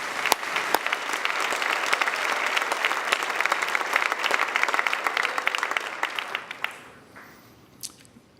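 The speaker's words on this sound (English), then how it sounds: "So another round of applause to all the coaches in here for what you do for the kids." Applause at an awards show for high school football coaches, with dense clapping that holds steady, then thins to a few scattered claps and fades near the end.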